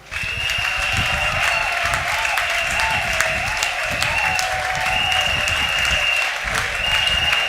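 A church congregation applauds and cheers in steady, loud acclamation, with sustained high whistling or ululating tones riding over the dense clapping throughout.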